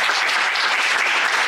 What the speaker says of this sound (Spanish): voy a pedir un aplauso súper fuerte para nuestras relatoras y relatores